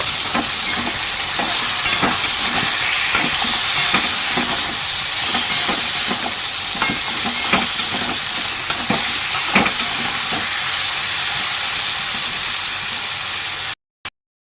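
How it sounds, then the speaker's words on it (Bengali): Dal frying in a hot pan while being stirred: a steady, loud sizzle with repeated scraping strokes of the spoon throughout, cutting off abruptly at the end. "এখন আমি ডালটা একটু নাড়িয়ে চালিয়ে দেবো"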